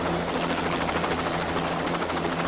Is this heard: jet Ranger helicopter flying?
yes